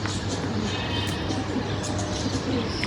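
Pigeons coo softly in a low, rolling murmur against a constant background rumble, with light scattered chirps above.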